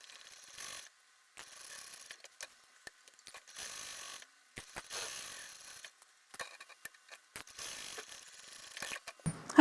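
A sewing machine stitches a bag pocket in short, intermittent bursts with pauses between runs, close and fairly quiet, with no talking.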